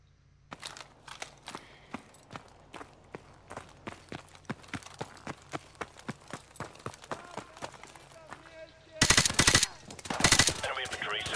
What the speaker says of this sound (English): I shot him with the shotgun.